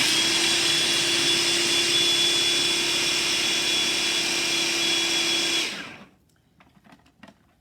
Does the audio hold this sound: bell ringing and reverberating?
no